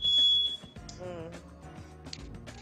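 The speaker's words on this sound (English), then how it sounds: "now that's my smoke alarm now" A home smoke alarm goes off with a shrill, steady high-pitched tone that sounds for about half a second, cuts, then resumes in short bursts, while a voice keeps talking underneath.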